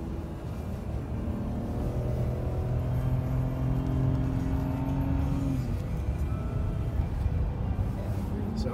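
A BMW 528i in sport mode drives on a cold day, its engine a steady low drone with road rumble, holding an even, moderately loud tone throughout.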